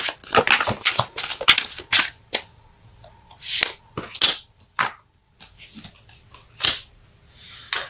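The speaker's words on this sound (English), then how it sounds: "Let's pull a card for your need to know section." A tarot deck being shuffled and a card pulled during a reading: crisp, snapping bursts of riffled cards in quick clusters, then scattered softer flicks and taps separated by short quiet gaps.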